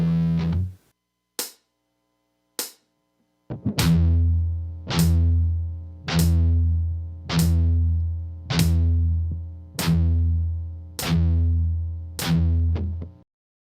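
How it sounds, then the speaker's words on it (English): A distorted electric guitar plays heavy metal pedal tones picked with downstrokes: a few muted hits, then eight loud, evenly spaced chugging notes, each ringing and decaying before the next. "To get a heavy metal sound, we're picking all of these pedal tones with a downstroke."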